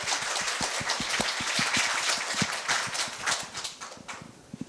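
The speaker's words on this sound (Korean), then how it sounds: "큰 박수 주세요." A school auditorium crowd applauds the opening of a middle school speaking festival with loud, steady clapping that carries on throughout and thins toward the end.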